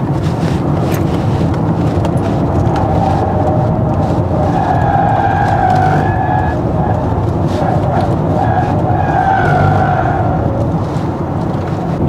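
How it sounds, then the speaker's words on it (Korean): Wind noise whistling around the frameless door window frame of a Polestar 4 cruising above 100 km/h, a steady rushing hiss over low road and tyre rumble inside the cabin, with faint whistling tones rising and falling. "이쪽에서만 이제 도드라지게 들리는 그런 풍절음이 있긴 해요."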